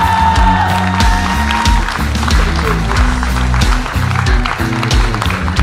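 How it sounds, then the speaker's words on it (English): An audience applauds for Flight Lieutenant Antara Mehta, a steady, dense clapping that carries evenly through the whole clip, mixed with music and crowd noise and no clear voice. "your loudest applause for Flight Lieutenant Antara Mehta"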